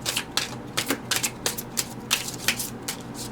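Tarot cards being shuffled by hand, a quick run of crisp riffling snaps and soft slaps in uneven bursts, close and fairly loud with no talking.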